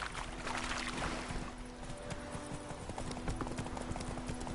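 Horse hooves gallop in a steady rapid clip-clop rhythm in the Witcher 3 video game, continuous and fairly close over soft background ambience.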